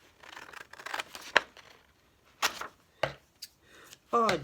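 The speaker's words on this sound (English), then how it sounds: "I'm just going to cut it with scissors." Scissors snipping through paper while making a handmade book, a few separate crisp cuts spaced irregularly with quiet pauses and soft handling noises in between.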